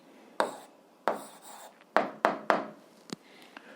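A pen writes out the answer to an 8th-grade algebra exercise by hand. About six short, distinct scratching strokes come with brief pauses between them, close and fairly quiet, with no speech.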